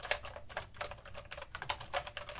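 Someone types on a Logitech wireless keyboard with lighted keys in a rapid, irregular run of crisp keystrokes heard close and clear, with no talking.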